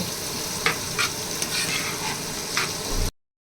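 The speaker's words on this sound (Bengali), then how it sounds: "এখন পেঁয়াজটা হালকা করে ভেজে নেব।" Chopped onion fries in leftover fish-frying oil, giving a steady close sizzle with a few sharp scrapes of stirring, before it cuts off into silence.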